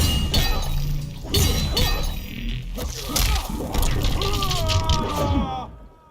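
Jax lands a Mortal Kombat 11 crushing-blow forward throw, a rapid run of sharp crunching impacts, clangs and shattering hits, with a narrator speaking over the fight sounds.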